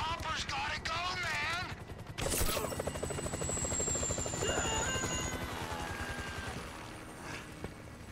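A helicopter's rotor thumps steadily in GTA V, a continuous close chopping rhythm joined by bursts of gunfire, with a voice speaking briefly at the start.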